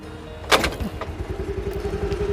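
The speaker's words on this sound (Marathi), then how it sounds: "तर बघा आपली गाडी आता एका किकने चालू झाली" A scooty scooter kick-started with one loud thump, after which the small engine catches and settles into a steady, fast putter of idling close by.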